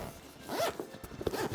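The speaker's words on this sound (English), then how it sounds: "if we open the bag" A zipper on a PGYTech One Mo 2 camera bag is pulled open in a few quick, close rasping strokes.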